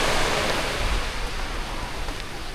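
Sea waves wash steadily against the shore at MacArthur Park in Palo, a loud, continuous broadband roar of surf with some wind on the microphone and no talking.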